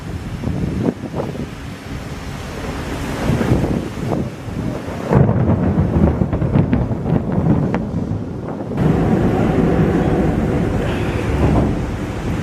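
A loud thunderstorm with cloud-to-ground lightning, sharp thunder cracks and rolling booms over steady rain and gusting wind, with heavy rumbles that come and go.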